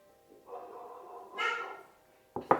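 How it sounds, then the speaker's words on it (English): A dog in the background of a home makes a drawn-out whining sound, then two short, quick barks, all fairly faint. "You may hear my dog in the background."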